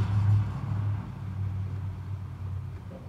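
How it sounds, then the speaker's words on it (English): Road traffic passes nearby as a steady, low rumbling drone of car engines and tyres that swells slightly at first and then holds evenly, heard while a car's cam sensor is tested with an oscilloscope. "You can certainly hear the traffic going by."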